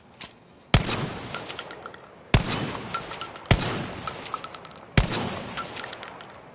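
A Remington 12 gauge hunting shotgun fires four loud, evenly spaced booming shots in a video game, each blast followed by a short ringing decay and mechanical clicks between shots.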